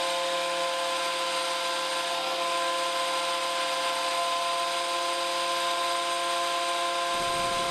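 A planer runs a board through, producing a loud, steady, high-pitched whine with strong tonal hum that holds constant for several seconds, then shifts slightly near the end as the board exits.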